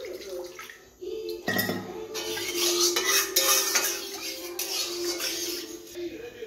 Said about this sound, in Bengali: কড়াইটা আমরা একটু জল দিয়ে ধুয়ে নেব